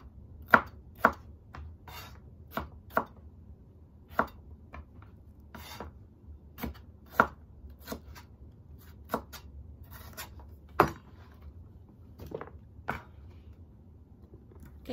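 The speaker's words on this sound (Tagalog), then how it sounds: "So, hiwain natin mga gulay." Knife chopping vegetables for pickles on a cutting board: sparse, sharp, close thunks at an irregular pace, about a dozen cuts over fifteen seconds, against a quiet room background.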